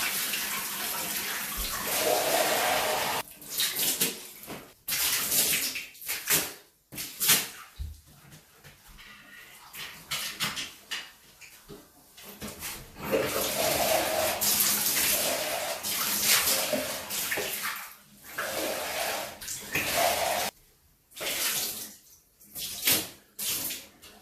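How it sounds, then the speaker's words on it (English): A sponge is rinsed under running water in a bathtub, the tap flow rushing in loud bursts that stop and start with brief pauses and splashing, with no one talking. "Let's just rinse our sponge."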